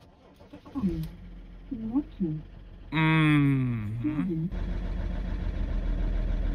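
A BMW E39 engine cranks and catches, settling into a steady loud idle with a rising whine as it starts, after a stretch of nearby talk.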